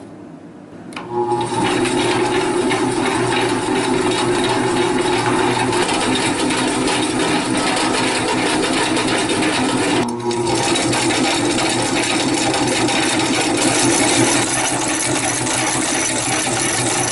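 A hand crank meat grinder converted to run on an electric motor with a belt drive keeps up a steady mechanical whir and rattle, loud and close, with no break except for one brief dip midway.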